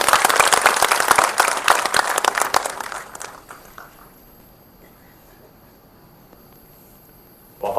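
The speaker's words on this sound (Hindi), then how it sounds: "अगर पसंद आया तो चाहते हैं जोरदार ताली से इस मॉल का स्वागत" Loud audience clapping at a cinema hall inauguration, strong and dense for about three seconds before stopping abruptly, followed by a quiet room and a brief sound at the very end.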